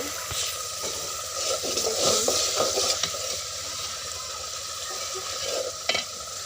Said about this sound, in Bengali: এখন শুটকিগুলো একটু কষিয়ে নিব